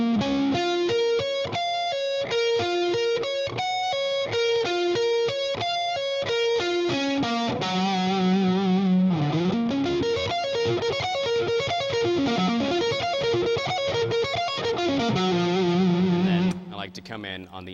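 Distorted electric guitar plays fast arpeggio sweeps with three-to-five-string patterns, loud and continuous, running through stepped note cascades and then rising and falling sweeping runs before stopping abruptly near the end.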